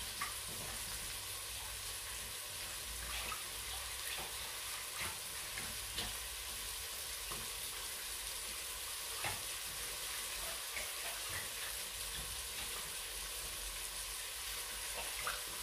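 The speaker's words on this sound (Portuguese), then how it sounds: "Agora vamos mexendo para não agarrar embaixo e fazer grumos" Cornstarch-thickened sauce stirred in a pot for bacalhau espiritual with spinach, with onion cooking alongside: steady, faint scraping and soft sizzle under a constant hiss, with occasional light clicks of the spoon, no talking.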